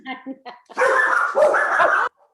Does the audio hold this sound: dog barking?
yes